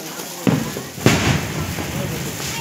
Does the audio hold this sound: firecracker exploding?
yes